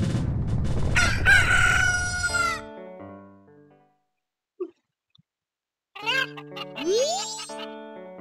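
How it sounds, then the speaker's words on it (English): Roosters crowing in the video game The Legend of Zelda: Majora's Mask, loud drawn-out cock-a-doodle-doo calls with bright harmonic game tones, a quiet gap, then a second crow with a rising sweep. "So we got full grown chickens here. Full grown roosters,"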